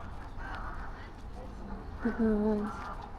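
A couple of nasal duck quacks from three ducks, the last one longer and louder, sounding over a low outdoor rumble.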